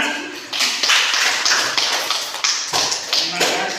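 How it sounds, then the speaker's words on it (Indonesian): Classroom of students clapping their hands after a group presentation, a loud, fairly close patter of uneven claps in rhythmic bursts with a few voices underneath. "Oke, boleh tepuk tangan."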